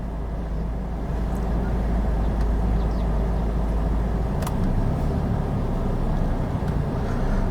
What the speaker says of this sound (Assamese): অলপ ৰানিং কৰি দেখাই দিছোঁ গাড়ীখন।